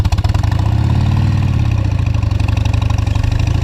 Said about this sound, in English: Little burnout. Little baby one.